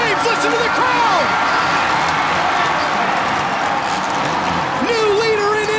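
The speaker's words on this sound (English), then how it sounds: "Listen to the crowd." Dense, sustained roar of a Supercross stadium crowd cheering in Indianapolis, loud and continuous, with whoops and shouts rising out of the din and a commentator's voice threaded through.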